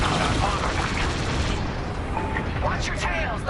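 Starfighter battle in Star Wars: Squadrons, with dense, loud blaster fire and explosions rumbling continuously, a few sharper zapping bursts near the end, and a pilot's voice talking over the din.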